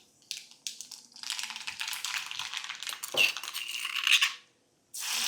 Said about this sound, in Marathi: 1-3 लसणाच्या पाकळ्या आपल्याला ठेचून घ्यायच्या आहेत